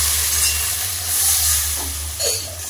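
Water splashes into a pan of potatoes fried with spices for a tangra fish curry, raising a loud hissing sizzle that rises and falls in close bursts, with no talking.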